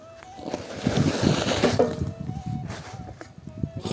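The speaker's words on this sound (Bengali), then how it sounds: "মেশিন স্টার্ট করে দিয়েছি, আরেকবার জল ছেড়ে দিয়েছি" A water pump machine's engine runs with a steady mechanical hum and tonal whine while water is let out, with faint talk and some handling clatter in between.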